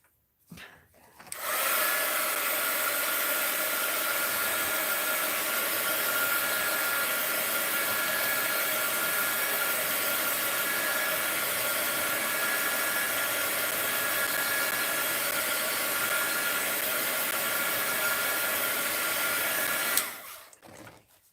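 A hair dryer runs on a fabric collage in an art journal, a loud, steady whirring blow that starts abruptly, holds evenly for about eighteen seconds, then cuts off.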